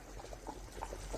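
Ukazi soup with snail and ground greens bubbles in a pot, a soft, steady simmer of small pops and gurgles, faint and close.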